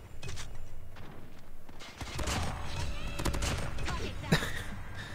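Rapid bursts of gunfire from hip-firing a Damascus MX9 in a video game, dense and continuous across the whole stretch, with a sharper shot near the end and game effects layered underneath.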